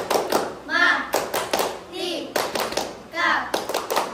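A group of students in a math class performs a rhythmic patterned clap, sharp bursts of hand claps and slaps in a set beat alternating with chanted voices, loud and close.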